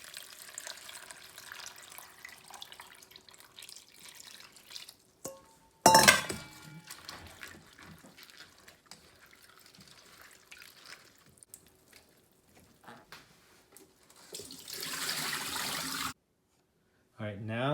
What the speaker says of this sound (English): we're gonna go ahead and wash the veggies